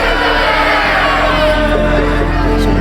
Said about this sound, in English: But the mob roared even louder.